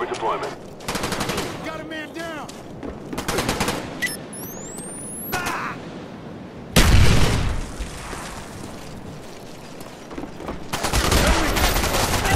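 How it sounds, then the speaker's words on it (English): Rapid bursts of automatic gunfire and booming impacts from a Call of Duty Black Ops match, loud and close, coming in irregular volleys with a heavy blast near the middle, mixed with game effects and occasional voices. "There's a guy behind her, shooting at us."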